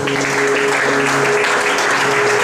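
Church congregation applauding together at a French-language worship service, a steady, dense wash of clapping that fills the room throughout with no break, while a sustained organ or keyboard tone holds underneath.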